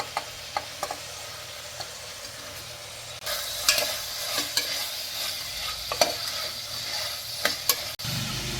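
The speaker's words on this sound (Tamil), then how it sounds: "அடுத்து வந்து கேரட்டு பீன்ஸ் ஆட் பண்ணுறோம்" Carrots and beans stir-frying in a pan with tomato, a steady hiss that swells louder partway through. A spoon or spatula scrapes and clicks against the pan in irregular strokes, close by with no talk.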